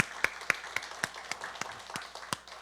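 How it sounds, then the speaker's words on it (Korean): Church congregation applause sounds faint and thin, coming through as a sparse string of about ten separate claps at a fairly even pace against a quiet background. "자, 우리 하나님께 영광의 박수 올려드릴게요."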